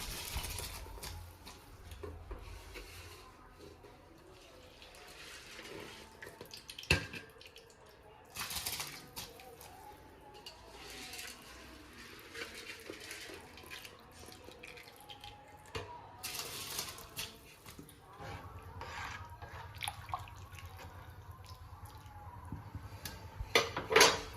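Soaked basmati rice tipped into boiling water for chicken dum biryani, with clattering pots, splashes and running water in a home kitchen, with quiet background talk throughout.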